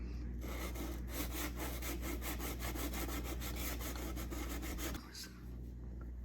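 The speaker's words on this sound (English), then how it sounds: "So I'm going to give it some 600 grit sandpaper, real careful, right across the rough spot." 600-grit sandpaper rubs carefully across a rough paint blemish on a Kawasaki Ninja 650 motorcycle, making quick rhythmic back-and-forth scratchy strokes up close for about five seconds before stopping over a low steady hum.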